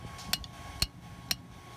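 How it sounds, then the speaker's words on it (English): Hammer striking hot metal while forging a blade in a backyard setup, three sharp ringing blows evenly spaced about half a second apart, close and clear over a quiet background. "I'll strike that more with the hammer to get a little bit of a taper going down toward the edge"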